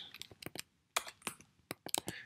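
Quick bursts of keyboard typing, a handful of crisp key clicks close by in short irregular runs with brief pauses.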